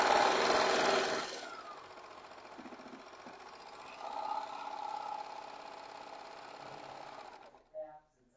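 A serger overlock machine sews a 3-thread narrow overlock stitch, loud and whirring at first, then dropping to a softer, steady mechanical drone before stopping with a brief clunk.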